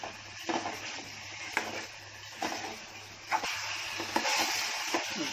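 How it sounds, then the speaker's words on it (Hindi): Chicken pieces frying in spices in a pan, a soft continuous sizzle with intermittent stirring scrapes and clinks close by. "अब इसमें अपना चिकन जा रहा है, इसमें अब 2 मिनट चिकन को उसमें भून रही हूँ।"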